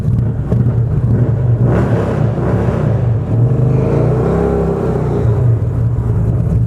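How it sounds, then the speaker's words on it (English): Motorcycle engine revving hard during a burnout on an Indian 111 or Harley 107, a loud continuous low rumble that surges and holds steady, close and unbroken throughout. "Little burnout."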